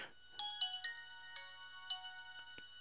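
A Nokia cell phone powers on with its startup tone, a short series of bright, clear chime notes over roughly two and a half seconds, heard close and alone.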